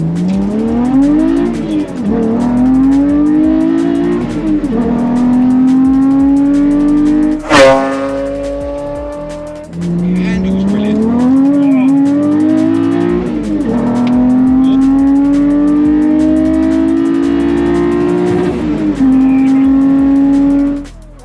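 Toyota MR2 fitted with a swapped 3.5 litre V6 revs hard and loud up close, engine note climbing and holding in long sustained pulls, with a sharp snap near the middle and a brief lull before rising again.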